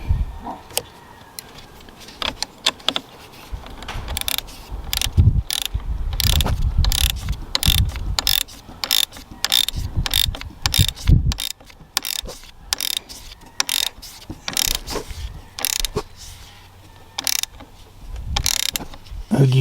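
A hand ratchet clicks in quick bursts while snugging a battery cable terminal onto the post of a 2014-or-later Ford Edge, sharp close clatter with short pauses between strokes.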